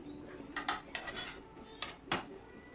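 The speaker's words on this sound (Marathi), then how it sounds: "हे ओट्स कंटिन्युअस स्टिअर करत राहायचं, नाही तर हे करपून जाणार." Oats being stirred and roasted in a pan, with quick scraping strokes and sharp clinks of a metal spoon against the pan at an uneven rhythm, fairly faint and close, without talk.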